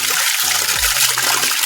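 Water trickles steadily from a traditional stone spout (dhunge dhara) on a hillside trail in Bhojpur, a continuous close splashing stream with a brief low thump partway through.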